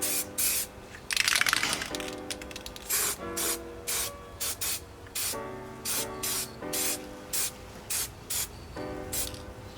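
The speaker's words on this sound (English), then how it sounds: "we're just going to go in with the first coat of black paint for these rear reflectors" Black paint sprayed from an aerosol can onto the rear reflectors of a Fiesta ST Mk6: close, loud hissing bursts, one long blast followed by a run of short, evenly spaced sprays with brief pauses between.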